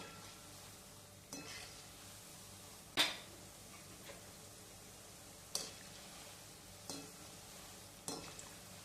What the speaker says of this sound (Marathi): हे जे गुलाबजाम आहेत ते आपल्याला ब्राऊन रंगावरती तळून घ्यायचे आहेत